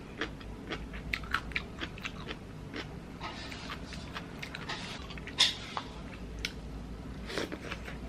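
Someone eating stir-fried mackerel with cucumber at home, close, irregular chewing and crunchy bites with wet mouth sounds and scattered clicks, steady throughout.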